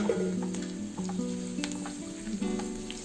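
Dry red chillies and curry leaves fry in hot oil in a pan while making an egg pickle, giving a close, crackling sizzle with quick pops and a few stirring scrapes, with no one speaking.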